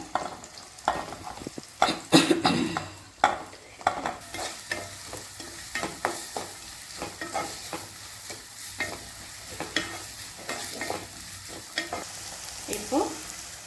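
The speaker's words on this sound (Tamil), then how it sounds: "வெங்காயம் பச்சை மிளகா போட்டுக்கலாம்" Onion and green chili fry in hot oil while a spoon stirs them, with scraping clatters and bursts of sizzle over a steady crackle, close and moderately quiet, for a chicken kothu chapati.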